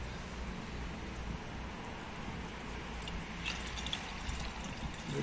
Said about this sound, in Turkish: Musluk suyu. Dökelim.